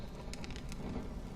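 Rain falls in a Honkai Star Rail game scene, a soft, continuous patter under a quiet ambient backdrop, faint and steady.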